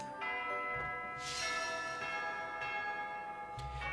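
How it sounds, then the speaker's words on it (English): School bell at the monastery in Fire Emblem: Three Houses, a church-like bell chiming in several slow resonant strokes with long ringing overtones, clear and moderately loud, no talking. "I like how that is the school bell."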